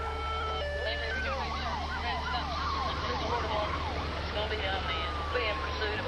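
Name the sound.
police car sirens during a chase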